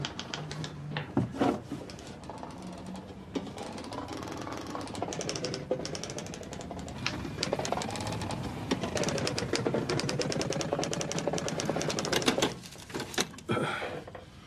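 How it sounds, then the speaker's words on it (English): Rapid mechanical typewriter keystrokes played back from a tape, a dense clattering run of clicks with a few pauses, steady and fairly close throughout. "It's a tape. All that typing."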